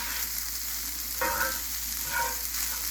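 Leftover rotisserie chicken stirred around in a hot cast iron skillet with the heat turned off, giving a steady close sizzle with two brief scraping stirs.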